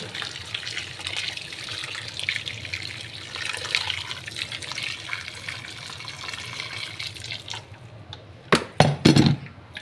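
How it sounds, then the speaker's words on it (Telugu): Heated water runs and splashes steadily into a cooking pot of mutton, ending in a few louder clanks and splashes. "వాటర్ అయితే నేను వేడి చేసుకున్నానండి"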